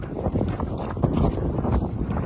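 Steady wind buffets a microphone outdoors in a frontline village area of Kostiantynivka community, a continuous low rumbling gust noise with no voices.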